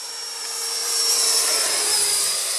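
Radio-controlled model jet, rated around 100 mph, passing overhead at an outdoor flying field: a loud, steady high-pitched whine that swells slightly as it nears, heard alone without talk.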